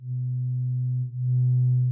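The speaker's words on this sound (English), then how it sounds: "And now the analog and digital sine waves sound the same." A pure, steady low analog sine-wave tone hums smoothly from a Medusa synthesizer, briefly dipping and then resuming slightly brighter, a drone held alone.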